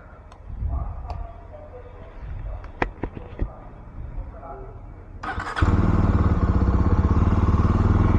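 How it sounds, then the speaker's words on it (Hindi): Ticks and clatter precede a Jawa 42 Bobber BS6 motorcycle engine firing up, then a loud, steady exhaust rumble takes over and continues to the end. "यार एग्जॉस्ट का आवाज़ तो बहुत मस्त है यार।"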